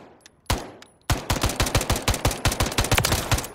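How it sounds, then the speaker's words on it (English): A CZ Scorpion EVO 3 S1 carbine with a 16-inch barrel fires in Call of Duty Modern Warfare: a couple of isolated shots, then a sustained rapid string of evenly spaced, punchy reports, loud and close. "you hold the trigger down and you're going to have a continuous burst"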